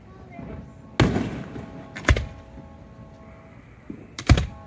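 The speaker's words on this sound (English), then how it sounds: "At our beach house, never had such a close view to the fireworks before." Fireworks explode close to a beach house on the New Jersey shore: several sharp, loud bangs, one single and then a quick double burst, ringing over a steady background while people talk nearby.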